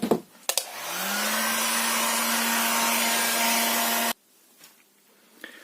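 A handheld hair dryer blows over fresh satin acrylic varnish on a painting. It whirs on with a steady, loud rush for about three seconds and then cuts off abruptly, leaving quiet handling noises.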